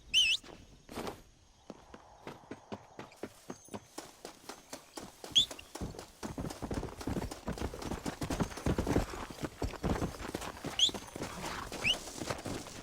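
A horse's hooves in Red Dead Redemption clop at a walk, then quicken into a rapid, driving gallop, close and crisp over quiet surroundings.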